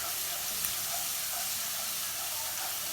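Noodle ingredients frying in a pan, giving a steady, even sizzle and hiss that holds at a moderate level throughout, close by with no talk.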